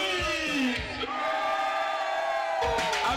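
Live concert crowd at an outdoor Summer Stage hip-hop show with a DJ, screaming, whooping and cheering loudly and continuously for about three seconds, a dense sustained roar of many voices.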